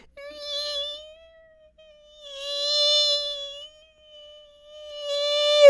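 A voice imitates a mosquito's whine, a thin high-pitched drone rising and fading in three long swells.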